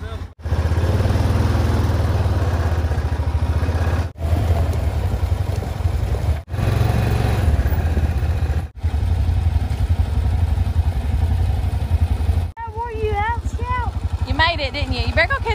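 A four-wheeler ATV engine idles loudly and steadily close by, with brief cutouts. People talk over it, and a high squeaky sound enters near the end.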